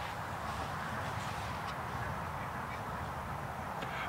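Ducks near a creek give a few faint, distant quacks over a steady wash of outdoor background noise, with no one speaking.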